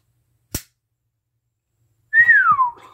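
A single sharp metallic snap rings out as a Kizer Lieb push-button folding knife blade flicks open, followed after a pause by a rising-falling whistle-like tone with some rustling.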